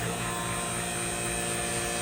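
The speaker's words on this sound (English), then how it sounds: "Now I'm going to turn on the vacuum." A vacuum pump runs for Kydex vacuum forming of a double magazine carrier, giving a steady, loud electric hum and whir that holds without change throughout.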